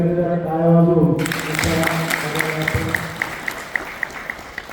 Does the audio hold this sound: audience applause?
yes